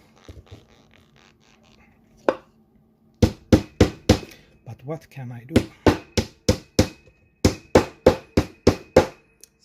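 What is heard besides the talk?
hammering on a table while building a Eurorack synthesizer case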